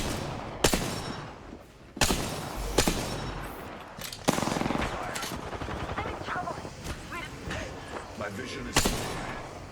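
Gunfire from the Apex Legends video game: loud, sharp shots crack out at irregular intervals over a dense, busy layer of game noise, with a voice talking underneath at times.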